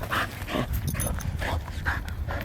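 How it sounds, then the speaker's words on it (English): Dog playing excitedly with frisbees outdoors in the cold, giving repeated close whimpers and yips over a rustling background. "Look at that dog."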